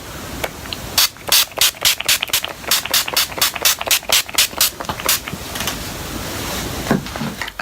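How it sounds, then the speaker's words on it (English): All-nighter makeup setting spray misted from a pump bottle: a quick series of about fifteen short, sharp hissing sprays, close and loud, after which it stops and only faint room noise remains. "And then just going to apply some more all-nighter spray."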